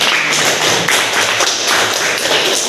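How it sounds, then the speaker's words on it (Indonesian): A classroom audience gives steady, dense applause after a group presentation, a continuous patter of many hands clapping throughout. "kita beri aplaus terlebih dahulu"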